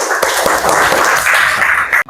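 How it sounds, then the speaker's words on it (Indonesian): Students clapping their hands in a sixth-grade mathematics class, a loud, dense burst of clapping that runs steadily for about two seconds and then stops abruptly. "Beri tepuk tangan dulu."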